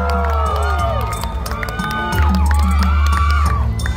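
A crowd at a Thai Songkran goddess pageant cheers and applauds the top 20 finalists, a loud, steady wash of voices and clapping with rising shouts and a swell partway through.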